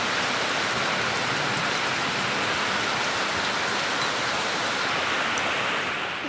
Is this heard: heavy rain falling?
yes